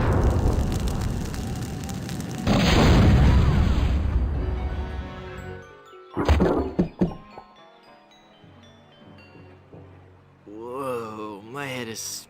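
A video game explosion in The Curse of Monkey Island: a long loud rumbling blast with fiery crackle, then a few sharp thuds and pops, fading into quieter tones as a voice speaks near the end.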